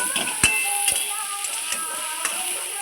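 Red amaranth stems frying with salt and turmeric in a pan, a continuous close sizzle with a few light clinks and scrapes from stirring.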